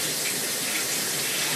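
Cold tap water gushing from a faucet over a burned hand, a loud, close, steady hiss of running water with no talk.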